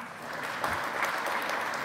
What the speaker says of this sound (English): Clap if the left is fake.